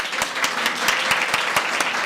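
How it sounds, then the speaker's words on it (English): Audience applause at a sociology and social work awards ceremony, a steady wash of many hands clapping throughout, fairly close and even in loudness. "another round of big applause"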